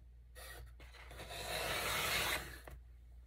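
Paper being trimmed for a baby girl scrapbook album, a close, soft scraping and slicing sound that swells over about two seconds, then stops, in a quiet room with no talking.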